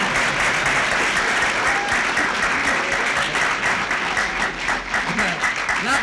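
An audience claps hands during an Indonesian comedy show, giving loud, dense, continuous applause that fills the whole stretch.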